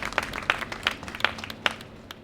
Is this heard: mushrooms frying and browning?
no